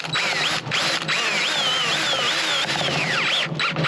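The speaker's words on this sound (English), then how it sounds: "I'm going to use the screws that came with the kit and go ahead and put those in" A power drill drives kit screws through a plastic mailbox post top into wood behind, its motor whining loudly and rising and falling in pitch through a few continuous bursts with brief pauses, close by and alone.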